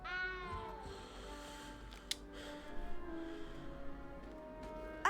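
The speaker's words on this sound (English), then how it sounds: "Where's the cat?" A cat in the video game Hogwarts Legacy meows clearly twice, one drawn-out call near the start and another at the very end, over a quiet ambient background with a faint click between them.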